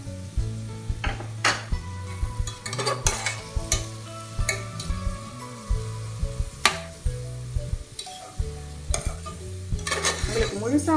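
Chopped onions and curry leaves fry in a pan for mutton chops, a constant sizzle under frequent metal clinks and scrapes of a spoon stirring against the pan.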